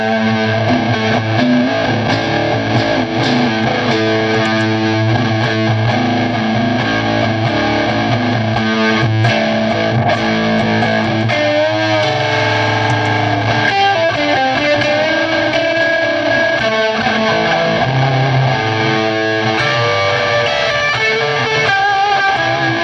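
Electric guitar played through a Walrus Audio Iron Horse fuzz distortion pedal, a thick saturated tone with sustained chords and lead lines, loud and steady, no talking.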